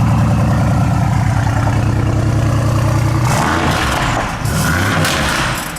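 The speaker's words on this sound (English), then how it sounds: "It's not crazy loud, but it's a really, really nice V8." A V8 car engine idles at a car dealership display, a deep steady rumbling burble from the exhaust, loud and close, that later shifts to a rougher, revving tone with crackles.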